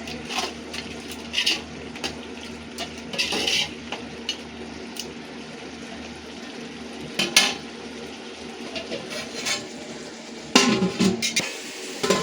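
A spoon scrapes and clanks against a metal pot of mutton biryani in irregular bursts, with a faint simmering bubble underneath.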